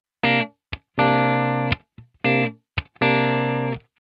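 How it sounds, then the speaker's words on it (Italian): Dry percussive instrument tones with no reverb, played before a TC Electronic Hall of Fame reverb pedal is switched in: several short, bright, harmonically rich notes and stabs separated by clean silences, each note cutting off abruptly. "prima vi faccio sentire il suono senza riverberazione alcuna"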